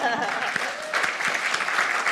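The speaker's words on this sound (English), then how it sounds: "Wow, that deserves a clap, I think" Audience clapping at a speaker's talk, a crowd's scattered claps filling the space with a voice briefly heard among them.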